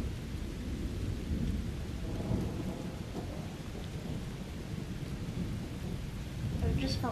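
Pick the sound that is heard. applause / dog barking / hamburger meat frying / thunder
thunder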